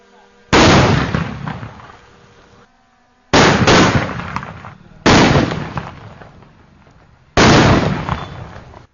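Four loud Diwali firecracker blasts go off close by, each a sharp burst with a long rumbling decay, spaced a few seconds apart, with voices faintly in the background.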